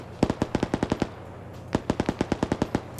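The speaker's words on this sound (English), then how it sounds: "Were they just shooting up with their own HMG team?" Heavy machine gun fire in a large-scale PvP combat game, loud and close: a rapid burst of about nine rounds, a short pause, then a second burst of similar length.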